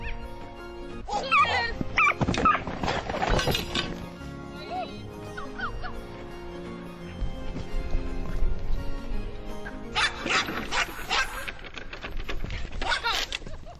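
A dog doing agility training barks and yips in short bursts outdoors, with pauses between the barks, some hoof-like thuds, and faint voices in the background.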